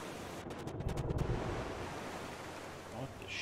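Rushing ocean surf from a raft survival video game, a broad steady wash of waves with airy wind noise, loudest in the first second and a half, then holding at an even roar.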